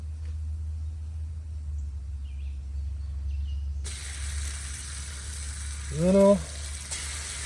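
Bacon sizzles on a Blackstone griddle at a camp cookout, a faint low hum giving way to a brighter, steady hiss of frying, with someone briefly speaking over it.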